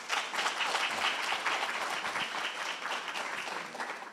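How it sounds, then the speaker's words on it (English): Conference audience at an academic colloquium applauding the presenters, a continuous, full wash of many hands clapping throughout, steady and fairly loud with no talk over it. "Colleagues, another very big hand of applause for the presenters."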